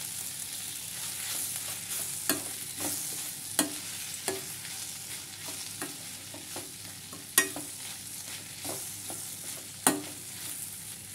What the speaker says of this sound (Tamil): தேங்காய் துருவல் சேர்த்து வந்து நம்ம 2 நிமிஷம் நல்லா எண்ணெயிலேயே வதக்கிக்கலாம்